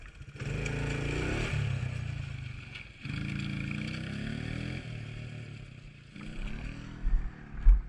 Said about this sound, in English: My little four-stroke KLX